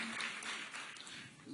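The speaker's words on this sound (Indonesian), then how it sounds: "Let's clap our hands" Church congregation clapping hands together during a worship service, a faint, steady patter of applause heard at a distance.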